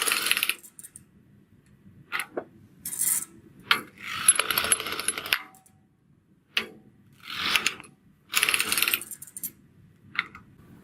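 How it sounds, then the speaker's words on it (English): Carriage of a knitting machine sliding back and forth while knitting tubular rows on the front and back beds, giving repeated bursts of clicking, ratcheting mechanical noise, each lasting about a second, separated by short quiet gaps, fairly close. "So I'm knitting the front bed going in one direction and the back bed in the other"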